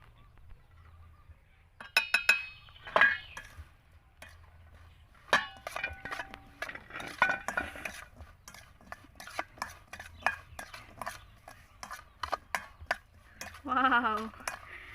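Java plum fruit mixed with chili salt in a dish, giving scattered clinks and scrapes of a utensil against the bowl, close and intermittent, with a few brief voice sounds.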